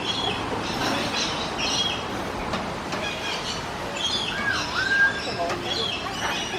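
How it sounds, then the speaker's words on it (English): Many birds call and chirp at a bird park, with scattered high tweets and whistles over a busy outdoor crowd murmur at moderate distance. "They got so many birds up here."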